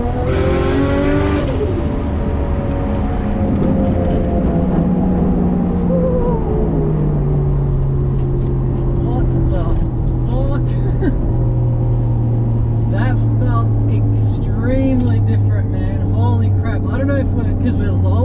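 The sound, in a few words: lowered R33 with RB25DET engine driving and accelerating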